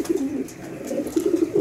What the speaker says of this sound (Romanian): Porumbel de excepție